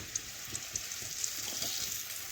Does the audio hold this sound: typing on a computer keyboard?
no